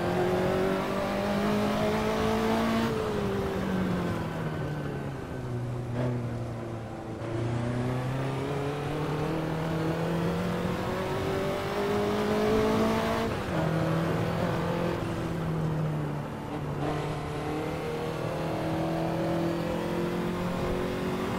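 A Ferrari 288 GTO in the Assetto Corsa racing game revs hard and steadily, its engine note climbing and dropping through repeated gear changes, loud and continuous with no talking.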